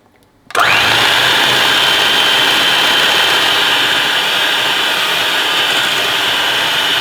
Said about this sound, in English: you have to carry on whisking it till it forms peaks